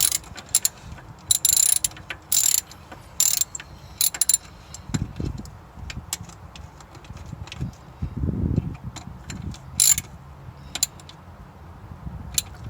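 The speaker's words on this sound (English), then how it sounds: "So 12 mil socket in a ratchet, and just keep. You want it snug, tight enough." A ratchet fitted with a 12 mm socket tightens a strut bolt during a front strut assembly replacement, giving several rapid bursts of close metallic clicking separated by short pauses.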